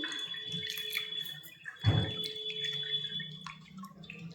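Cold water splashes over fresh homemade paneer in a cloth, with scattered drips and one fuller gush midway, faint and close against a quiet background.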